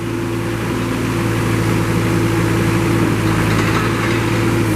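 A Moffett piggyback forklift engine runs at a steady idle, a constant loud low drone with a humming tonal layer and no pauses or voices.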